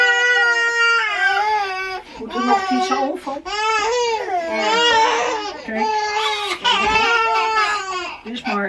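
Babies fuss and cry loudly and continuously just after being taken out of the bath, wailing close by with whimpering breaks, while an adult speaks briefly over them.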